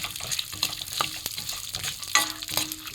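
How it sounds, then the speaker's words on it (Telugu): Tempering spices frying in a little oil crackle and sizzle close up. Sharp pops and stirring scrapes sound irregularly throughout, with no voices. "తాలింపు సామాను వేసుకుంటున్నాను ఫ్రెండ్స్."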